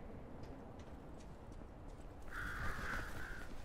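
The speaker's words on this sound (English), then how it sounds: "Oh my gosh, the birds." Crows caw in the video game Lies of P: a quiet ambient stretch, then a short run of loud, harsh caws near the end.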